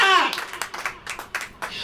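A church congregation clapping hands in a quick irregular burst of sharp claps, close and fairly loud, following a brief moment of speech at the start.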